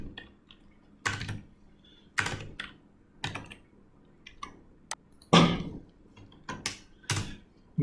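Close bursts of computer keyboard typing come in short clusters of clicking keystrokes separated by brief pauses, with one heavier burst of keys near the middle.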